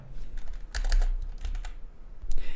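Computer keyboard keys clatter in short quick bursts of typing while C code is written, close and moderately loud, with brief pauses between flurries.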